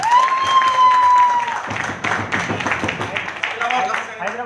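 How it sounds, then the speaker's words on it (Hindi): Crowd of audience members from Jaipur bursting into loud applause and cheering at a business meeting in Delhi, dense clapping throughout, with a whistle at the start and voices mixed in. "जयपुर वालों के जोरदार ताली हो जाए।"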